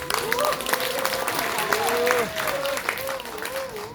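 Party members at a meeting give a brief round of applause, a moderate patter of clapping that sits beneath a voice speaking over it.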